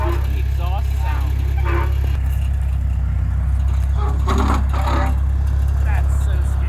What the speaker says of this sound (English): Like that the exhaust sound.